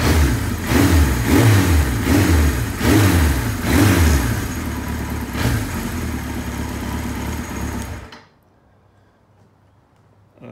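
Engine of a 45-year-old Kawasaki KZ900 motorcycle, idling slightly high with a loud, close, pulsing rumble that cuts out abruptly near the end and leaves quiet.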